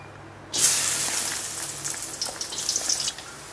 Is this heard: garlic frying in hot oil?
yes